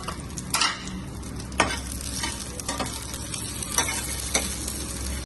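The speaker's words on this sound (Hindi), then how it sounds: "ये देखें जी लहसुन भी हमारा तकरीबन भून चुका है।" Peeled garlic cloves fry in oil for mooli chutney, a continuous close sizzle broken by periodic scraping stirs of the pan, with no talk.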